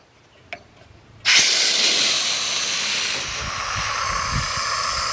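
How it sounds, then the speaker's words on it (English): Air rushes out of a small valve on a tandem full-floor race car trailer, a loud steady hiss that bursts on after a faint click and carries on without letup, close by and with no talk. "You just drop the air out of this little valve here."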